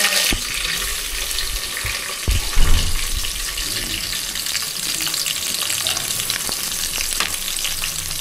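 Green chillies frying in hot oil, a loud, dense, continuous sizzle and crackle that stays close and strong throughout, with a brief clatter partway through and no voices.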